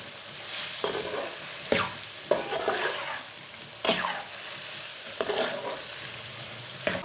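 Makhana (fox nuts) roast in a pan over medium heat while a spoon stirs them repeatedly, producing periodic scraping, rattling strokes over a low, steady frying hiss, nearby and without speech.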